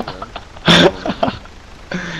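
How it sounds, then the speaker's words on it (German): A single harsh cough bursts out over low background murmur, with a few faint voice sounds around it, during a roadside alcohol check in the video game Arma 3. "Husten."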